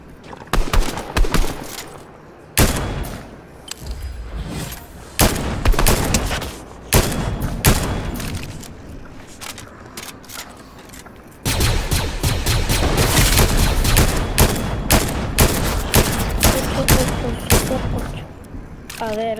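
Gunfire crackles through a Fortnite battle royale match, dense rapid bursts and repeated shots filling nearly the whole stretch, loud and close, with brief pauses between volleys.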